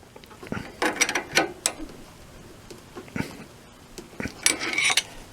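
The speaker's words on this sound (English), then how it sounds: "I keep the screwdriver in place and I tighten the box end wrench" Box end wrench tightening a valve adjuster on an air-cooled VW Type 1 engine, giving metallic ratcheting clicks and clinks in a few short irregular bursts, close by.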